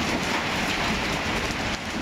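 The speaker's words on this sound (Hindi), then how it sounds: "बलोचिस्तान के शहर कोहलू में यालाबारी और मूसलाधार बारिश का सिलसिला वक्फे से जारी है।" Torrential heavy rain pours down in Kohlu, Balochistan, Pakistan, a loud, dense and unbroken wash of noise with no voices.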